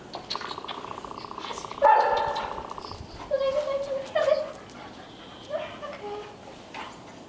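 An older dog makes short whines and yips during obedience training, including hand-targeting while walking, with a trainer's voice talking around the bursts.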